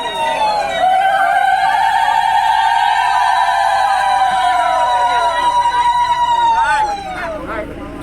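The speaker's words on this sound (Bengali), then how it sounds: "তোমরা শুনতেই পারলে যে উলুধ্বনি দিয়ে গাড়িটা ছাড়া হলো" Ululation (uludhwani) rises as a bus departs on a pilgrimage to Thakurnagar: a loud, sustained, wavering high-pitched vocal trill that carries for several seconds before trailing off.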